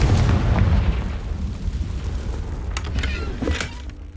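Confringo blasting spell explosion in the video game Hogwarts Legacy: a loud, rumbling boom with low crackling burst that slowly fades, followed by a few sharp clicks near the end.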